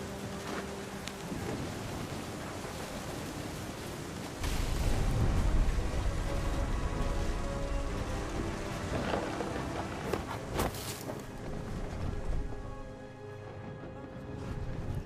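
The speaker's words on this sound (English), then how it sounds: "The thunder sounded much too close and full of angry power." Heavy rain pours steadily in a thunderstorm in the video game What Remains of Edith Finch, with deep thunder rumbling close and swelling louder partway through, then easing back under the constant downpour.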